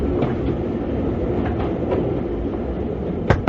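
Steady rumble of a moving train in a Cold War era spy film set on a train, with rhythmic clicks of wheels over rail joints and a brief squeal near the end, continuous and fairly loud with no talking.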